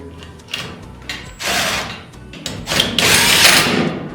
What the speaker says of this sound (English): You then simply fasten your STUDBITE screw